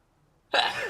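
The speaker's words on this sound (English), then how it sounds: "I'm gonna sneeze." A single short, sharp sneeze bursts out suddenly after near silence, close and fairly loud.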